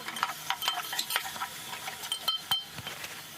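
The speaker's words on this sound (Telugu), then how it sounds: "తిప్పుకోవాలి." A spoon stirs turmeric into Nellore-style fish pulusu in a pot, giving a run of quick, close scraping and clinking strokes over a faint sizzle.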